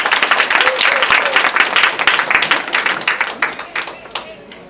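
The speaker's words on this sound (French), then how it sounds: "Applaudissez pour lui, s'il vous plaît." Guests at an official wedding ceremony clap together, a lively burst of many hands with a distinct rhythmic pulse that gradually tapers off, fairly close and loud, with some voices underneath.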